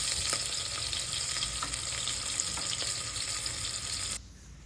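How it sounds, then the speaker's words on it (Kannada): Paneer frying in a pan for pulao gives a steady, close sizzle with occasional light stirring clicks, then drops abruptly to a much quieter hiss near the end, with no one speaking. "ಈಗ ಮತ್ತೆ ಚೆನ್ನಾಗಿ ಫ್ರೈ ಮಾಡ್ಕೊಳ್ಳೋಣ. ಇದು ಫ್ರೈ ಆಗ್ತಾ ಇದೆ."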